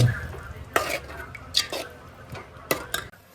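Tomato gravy for paneer tikka sizzles gently in oil in a pan, with a few sharp scrapes of a stirring spoon breaking through the soft, steady frying hiss.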